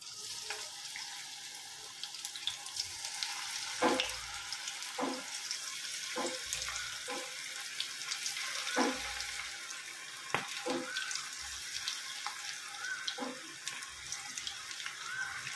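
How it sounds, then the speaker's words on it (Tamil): Corn pakoda batter dropped into hot oil, a continuous bubbling, watery sizzle close by, broken by repeated short clatters and splashes as pieces go into the pan. "இப்போ நம்ம பனைஞ்ச பக்கடாவை எண்ணெயில் போடுறோம்."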